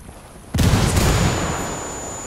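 A frag grenade detonates in the tactical shooter Ghost Recon Wildlands: after a quiet lead-in, one sudden loud blast hits and leaves a long rumbling tail that fades slowly.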